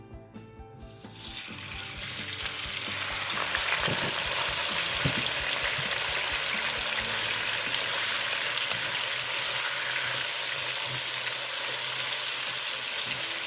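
Loud, steady sizzling of braising meat dropped into about six tablespoons of hot oil, starting after a brief quiet moment and continuing with occasional clinks and stirring.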